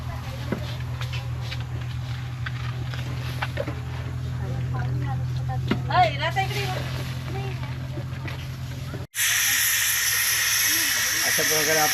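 Loud, sharp hiss of steam bursts from a pressure cooker cooking chicken at a campsite, after softer background clatter and indistinct noise.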